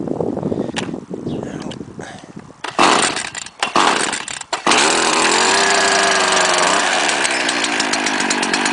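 A Stihl FS70RCE gas string trimmer with a 27.2 cc motor, first sputtering and revving in uneven bursts, then settling into a loud, continuous, close-up buzzing drone.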